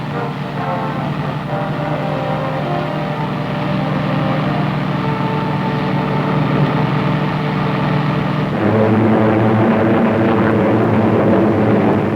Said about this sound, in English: Allied planes, thousands of them, continued to soften enemy defenses and communications in daily raids.